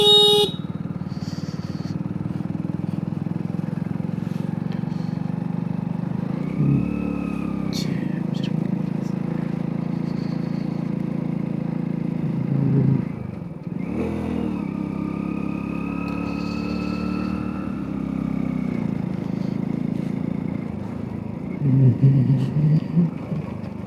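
Motorbike engine droning steadily along a road leading into a forest, a continuous mid-level hum with small shifts in pitch and a couple of brief dips, with someone speaking over it at times.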